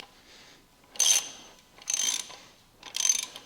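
A ratchet wrench works a bolt loose on a used car engine bought secondhand, three short bursts of clicking roughly a second apart, close and alone.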